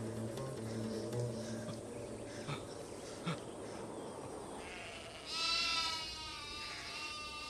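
Sheep bleat in a rural setting, a few wavering calls at moderate distance, with one clearer, higher bleat near the end over a faint background.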